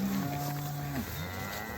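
Cattle being herded with polywire around a corner in a tight lane let out a single long low moo, close and fairly loud over a windy, hissing outdoor background.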